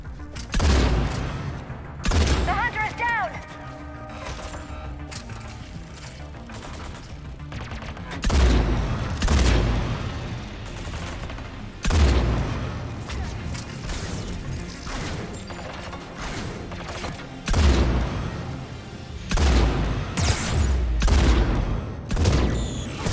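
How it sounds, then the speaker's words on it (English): Enemy gunfire in the sci-fi shooter Mass Effect 3, repeated loud bursts and booming impacts spread through the stretch with rattling mechanical noise between, and a voice speaking now and then. "They're shooting at us."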